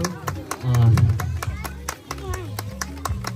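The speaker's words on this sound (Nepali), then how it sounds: "जोरदार ताली आशीर्वाद स्वरूप" Loud clapping from a wedding crowd offered as a blessing to the bride and groom, dense rapid claps continuing throughout over a steady low hum.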